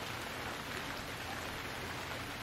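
Steady rain pours down in the survival game Stranded Deep, a dense, even hiss of drops that holds without pause and with no voices over it.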